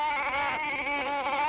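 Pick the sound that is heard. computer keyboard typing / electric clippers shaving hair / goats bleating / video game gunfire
goats bleating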